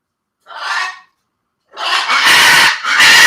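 Shrill, harsh bird squawks in two bursts, a short cry followed by a longer, louder stretch of screeching close by.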